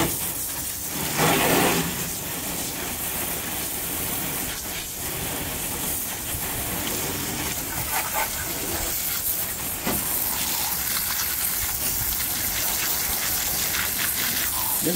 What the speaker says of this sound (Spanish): Voy a echar agua porque está tan grasosa que no puedo ni coger las cositas